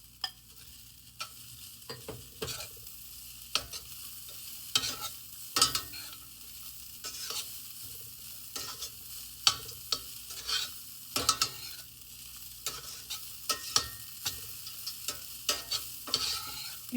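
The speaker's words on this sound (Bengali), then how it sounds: "এখন নেড়ে চেড়ে দেন এই ভাজা যেগুলো ওগুলো দিয়ে দিব।" A pan of flattened rice (poha) with fried ingredients is stirred, and a steady sizzle runs under intermittent close scraping and knocking strokes of the spoon, with no voices.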